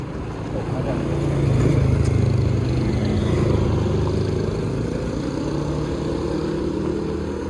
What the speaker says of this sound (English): A Thai motorcycle.